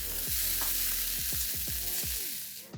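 Soba noodles with vegetables are tossed in a pan, a continuous sizzle under a series of about six rhythmic scraping, swooshing tosses, close and fairly quiet overall.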